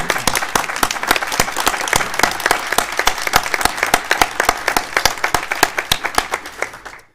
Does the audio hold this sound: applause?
yes